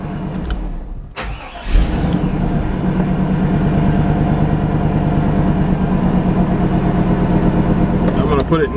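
A Chevy/GMC OBS pickup truck engine cranks briefly, catches and settles into a steady, loud close idle that runs to the end, with the starter burst near the start.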